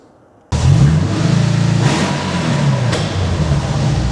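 VW dune buggy fitted with a Subaru engine, firing up abruptly then revving hard in a loud, sustained mid-range roar with a couple of throttle blips, heard close and alone.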